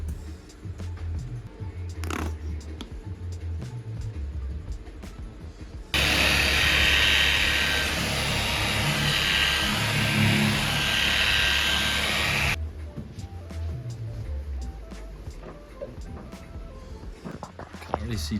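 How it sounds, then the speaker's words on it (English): A furry buffing pad polishing the bonnet of a Porsche 944 whines in one loud, steady burst of about six seconds, with talk and handling noises before and after. "This adds the shine, and I use a different buffing thing."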